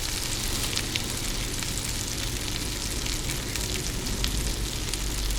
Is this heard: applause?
no